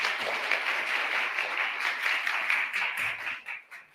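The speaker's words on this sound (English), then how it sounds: "let's give him a round of applause to thank him for participating" An audience at a state inauguration day ceremony applauds the departing attorney general, a steady wash of many hands clapping at moderate distance that thins and fades out with a few last claps at the end.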